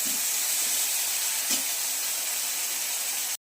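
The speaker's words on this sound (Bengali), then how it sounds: "ঘি দিয়ে ভেজে নেব।" Something frying in hot ghee in a pan gives a steady, close, loud sizzle and hiss with one brief stir in the middle, then cuts off abruptly.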